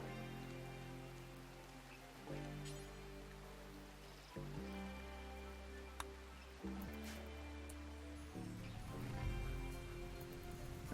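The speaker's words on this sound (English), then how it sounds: "It's raining, so it's stopped and ended all the burning of everything." Rain in the medieval colony game Rimworld, a faint, steady patter and hiss running continuously under a low game tone with a few soft knocks and shifts.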